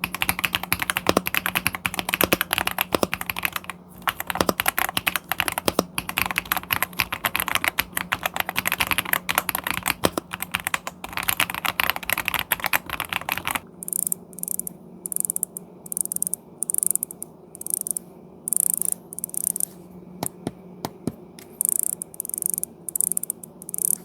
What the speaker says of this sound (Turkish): Klavyemizin hot swap yapısı ve tuş sesleri de bu şekildeydi dostlar